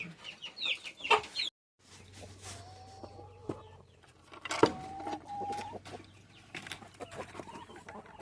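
Young chickens clucking in a chicken yard, scattered close clucks and squawks amid jangling keys and rustling movement, with a brief drop to near silence partway through.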